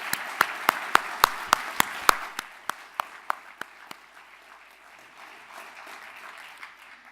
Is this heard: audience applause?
yes